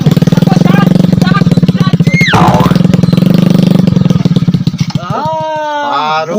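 A motorcycle engine runs loud and close with a rapid, throbbing putter. Voices talk over it, and toward the end the engine fades back while speech carries on.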